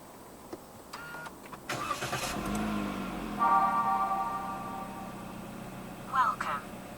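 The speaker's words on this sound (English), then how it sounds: "Put your foot on the brake and press the start button to the left of the steering wheel." A 2023 Toyota Vios 1.5 G starts by push button: a few soft clicks, then a brief starter crank as the engine catches and settles into a quiet, even idle, with two short electronic chimes sounding over it.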